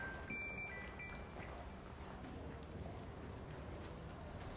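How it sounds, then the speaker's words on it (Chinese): Steady rain falls outdoors as a constant, even hiss filling the whole stretch, with no pauses and no voices over it. "下雨了"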